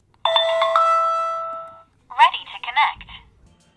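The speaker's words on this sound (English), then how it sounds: "once you hear that chime and message" Wyze Cam home security camera setup sequence: a sustained electronic chime tone held for about a second and a half, followed by a short recorded voice prompt from the device.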